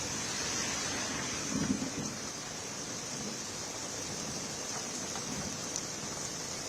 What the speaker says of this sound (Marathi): मुंबईसह उपनगरात मुसळधार पावसाची सुरुवात झाली आहे